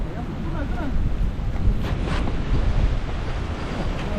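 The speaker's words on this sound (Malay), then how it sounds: "Tunggu ombak." Ocean waves break and surge against the rocks at Punchbowl, San Remo, a rock-fishing spot, in a continuous loud roar with heavy wind buffeting the microphone.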